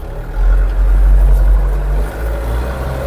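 A Scout 404 mini tractor's engine runs while driving downhill, a loud, deep, steady diesel rumble that swells early and eases off toward the end, with no speech.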